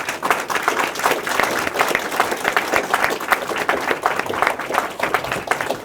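An audience applauds outreach workers for homeless services with dense, sustained clapping that stays fairly loud and even from start to finish, no speech on top.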